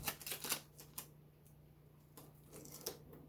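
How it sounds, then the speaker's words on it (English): Strong adhesive tape sticking to and peeling off a Buick Grand National car headliner, with crackly, tearing bursts close up, busiest in the first second, then quieter rips and crinkles later on. "You can hear that crazy adhesive."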